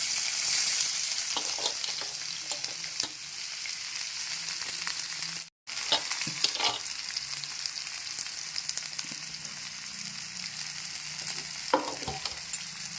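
Onions sauté in gingelly oil with cloves, a cinnamon stick and fennel seeds, a continuous close hiss and crackle with occasional stirring scrapes, briefly cut off by a moment of silence midway, with no voices.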